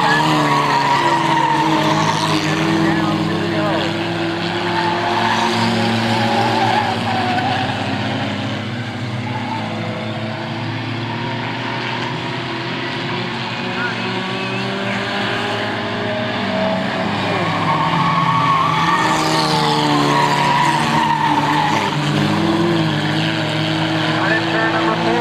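Race cars lap a short oval track during a 1998 race, their engines roaring steadily and continuously, with a doppler swell as cars pass, all under a commentator's running play-by-play.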